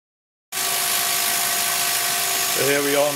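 A Tormach CNC mill taking a facing cut across a large workpiece about 12 by 8 inches, a loud steady high-pitched whine that starts abruptly and shifts in tone near the end.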